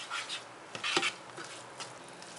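Rice stirred with orange zest and fresh parsley in a bowl, giving soft, quiet scraping and rubbing strokes with a few brighter clinks near the middle, with no voices over it.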